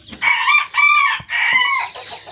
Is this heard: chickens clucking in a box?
yes